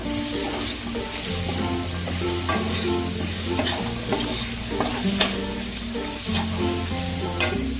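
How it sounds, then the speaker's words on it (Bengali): Carrots stirred in a hot pan for mixed fried rice make a loud, steady sizzle, with repeated scraping strokes of a spatula across the pan and a low background hum. "প্রথমে দিলাম গাজর গাজরটা দিয়ে একটু মিশিয়ে নেবো"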